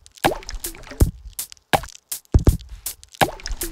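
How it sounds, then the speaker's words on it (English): Sampled water droplets land as snare accents in a phone-made beat, loud crisp plops alternating in a regular rhythm, each with a short wet tail. "I'm gonna alternate between these two water droplets as snare toppers"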